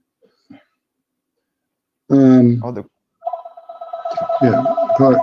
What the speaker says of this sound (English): pardon my ringing phone